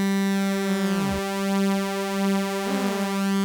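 A saw-wave synth tone in Phase Plant, passed through chorus pitch modulation. It holds a bright, buzzy sustained note whose pitch swoops down and back up twice, alone and steady in loudness.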